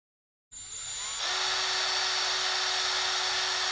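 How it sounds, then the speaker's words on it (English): A drill bit bores out holes in 3D-printed parts for an LDO Voron V0.1 printer build, a steady high-pitched whine starting abruptly and holding constant, close and loud, with no talking. "I'm going to drill those out just a little bit."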